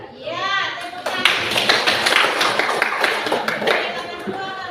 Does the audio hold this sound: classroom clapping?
yes